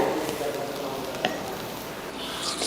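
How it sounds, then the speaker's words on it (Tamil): Vegetable dum biryani is lightly stirred in a pot, with a soft continuous sizzle and gentle scraping of rice close by, steady and moderately quiet with a brief clink partway through. "ஓப்பன் பண்ணி பார்த்துட்டு லைட்டாக கிளறி விட்டுக்கலாம்"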